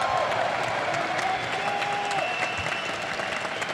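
A large crowd at an esports arena in Germany, at the EU LCS Spring Finals 2017 League of Legends match, applauds and cheers in a dense, steady roar that carries unbroken throughout.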